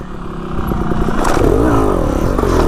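A motorcycle rolls in and brakes hard into a nose wheelie, with a close, loud engine drone that rises in pitch, plus brief mechanical clatter and scraping over a few seconds.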